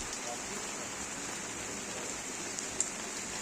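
Steady rain falls outdoors in a garden being cleared and pruned in front of a house, a continuous even hiss throughout with one faint brief tap near the end.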